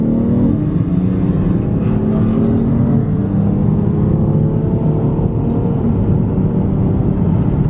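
BMW M3 with a manual gearbox pulling hard in second gear from low speed in Sport Plus mode, a loud steady engine drone with rising harmonics that fills the whole stretch, no talking.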